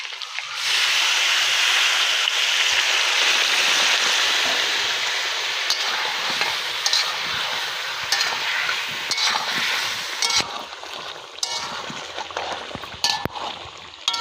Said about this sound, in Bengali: আলুটা নাড়াচাড়া করে দিচ্ছি।